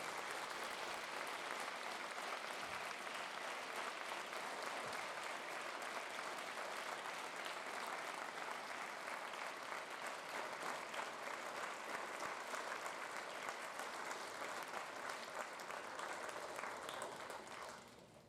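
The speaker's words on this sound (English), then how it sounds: "let's give them a round of applause for their service to our country" Sustained applause from a school assembly audience honoring veterans on Veterans Day, a dense, steady wash of clapping that holds evenly for the whole stretch before tapering off at the very end.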